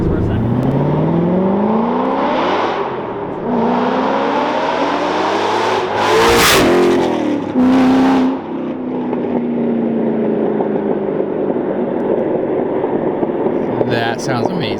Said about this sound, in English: What do you think the exhaust? It sounds good.